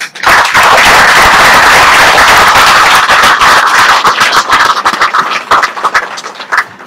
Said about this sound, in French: Je voudrais donc rendre un vibrant hommage en vous demandant d'applaudir pour le Premier ministre sortant